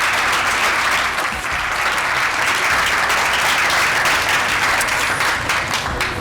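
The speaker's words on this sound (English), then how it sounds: "I know that applause was for Mayor Wu, not me." Loud, sustained applause from a large audience at a pharmaceutical company's expansion groundbreaking and ribbon-cutting ceremony, a dense steady wash of clapping filling the whole stretch with no speech over it.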